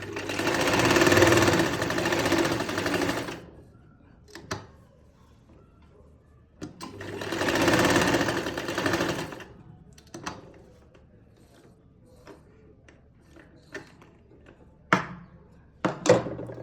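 A sewing machine stitches a lined kameez in two long loud runs of steady whirring, each a few seconds, with quieter handling clicks and taps between and after.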